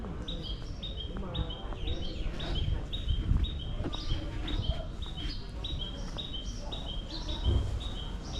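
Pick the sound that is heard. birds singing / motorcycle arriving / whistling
birds singing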